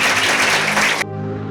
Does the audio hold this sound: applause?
yes